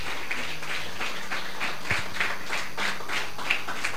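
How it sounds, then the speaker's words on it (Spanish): Church congregation giving an offering of applause during a Spanish-language service, steady rhythmic clapping at moderate level, somewhat distant and roomy. "Denle una ofrenda de aplauso al Señor."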